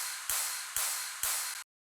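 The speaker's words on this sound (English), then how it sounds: "some drum claps and rides" Three bright, noisy drum claps ring out at an even pace, each followed by a hissing shimmer of ride cymbal, fairly quiet and alone in a future house drop, cutting off abruptly at the end.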